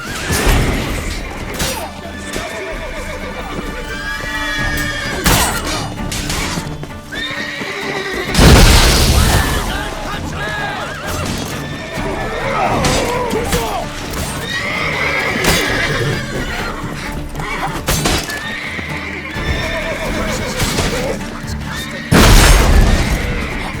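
Horses neigh and whinny repeatedly in a video game, The Witcher 3: Blood and Wine, amid a loud chaotic battle scene with crashes, thuds and booms, voices shouting underneath.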